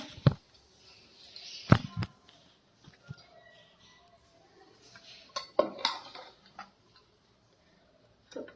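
Breakfast being served onto a plate brings sharp metallic clinks of cutlery against dishes, a few bright knocks spread irregularly across the moment with quiet gaps between them.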